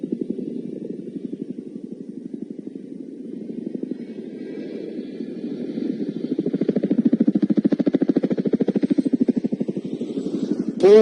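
Chinook helicopter at an airshow display, a steady loud rotor thud with a pulsing low drone that grows stronger midway, holding close and continuous with no talk.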